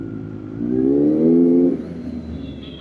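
A motorcycle engine revs up in a rising harmonic whine, holding near and loud for about a second before dropping back to a steady idle rumble.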